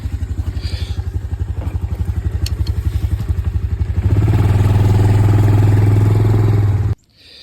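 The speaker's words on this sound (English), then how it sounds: "All right, we're on the back of the four-wheeler." A four-wheeler ATV engine runs close by with a steady low throbbing pulse, which rises to a louder, rougher drone partway through before cutting off abruptly near the end.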